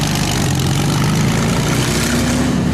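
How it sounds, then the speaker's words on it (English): A 42-litre Packard V12 aircraft engine from a motor torpedo boat, fitted in an 8-litre Bentley chassis with twelve exhaust pipes per side, rumbles loud and close in a deep continuous idle. "But what's that engine? It's 42 litres of Packard aircraft."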